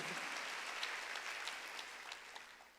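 A church congregation at a Wednesday worship service claps together, a faint, sustained patter of many hands that tapers off slightly toward the end.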